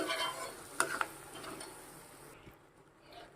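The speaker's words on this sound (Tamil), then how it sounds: "இதை அப்படியே ஒரு கலந்து கலந்து விட்டுக்கிட்டு" A spoon scrapes and stirs through thick ridge gourd peel chutney in a pan, with a couple of sharp clinks against the metal, then quieter stirring.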